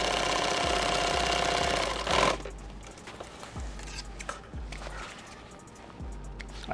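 A sewing machine stitches a kit bag, first in a steady mechanical run for about two seconds, then in slower, separate stitch thumps and clicks with handling noise.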